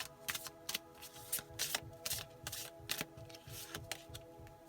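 Tarot cards shuffle in a run of crisp riffling bursts and soft taps, close by and fairly quiet, with no talking.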